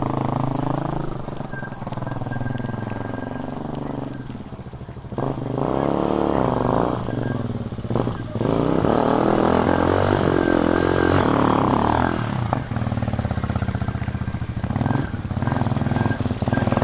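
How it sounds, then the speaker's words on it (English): Cheap Amazon enduro dirt bike engine running steadily while riding around a parking lot, a continuous buzzing drone that rises and falls with throttle, fairly close. "Doesn't have a lot of power, really doesn't want to wheelie even if you clutch drop it"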